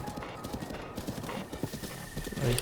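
Horse hooves clip-clop in a steady trotting rhythm in the Zelda: Breath of the Wild video game, fairly quiet and continuous, with a brief low snort or whinny near the end.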